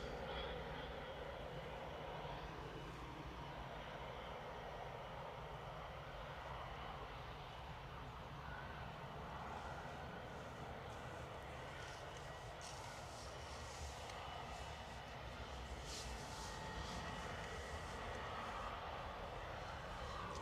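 A Ryanair Boeing 737 MAX 8 bound for Lanzarote rolls down the runway for take-off at Manchester Airport, its engines a faint, steady distant roar held for the whole span without voices.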